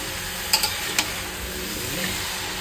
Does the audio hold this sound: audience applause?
no